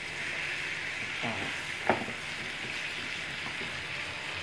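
Potatoes fry in a pan alongside meat, giving a steady broadband sizzle throughout, with a brief louder scrape or clatter near the middle as they are flipped; no talking.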